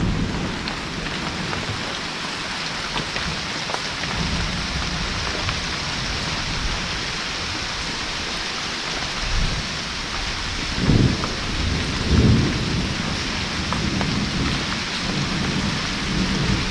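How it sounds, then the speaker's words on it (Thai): Steady heavy rain pours down continuously at a cave in Thakhek, Khammouane, Laos, with a couple of low rumbles of thunder in the second half. "มาพร้อมกับสายฝน"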